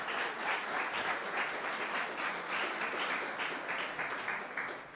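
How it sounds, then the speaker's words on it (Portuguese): An audience at a sports apprenticeship program launch applauds warmly, a full, continuous wash of clapping that stays strong before tapering off near the end. "merecem um reconhecimento e uma salva de palmas bem grande"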